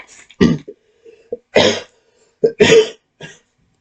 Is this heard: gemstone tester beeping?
no